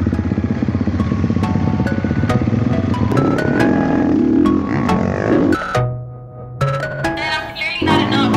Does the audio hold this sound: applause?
no